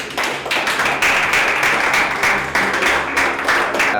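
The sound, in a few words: audience applause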